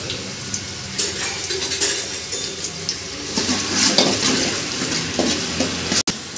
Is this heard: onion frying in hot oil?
yes